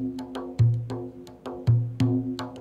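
Rebana frame drum, a Malay percussion instrument, struck in a steady rhythm, with deep resonant gong-like tones landing on the first beats amid lighter slaps, close and fairly quiet.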